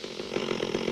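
A chainsaw from the horror film Evil Dead II, a brief, loud, steady buzzing snarl heard alone for under a second.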